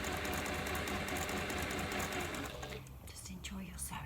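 A sewing machine stitches a schoolhouse quilt block, a steady close whirring run that fills most of the clip before easing off near the end as a voice speaks.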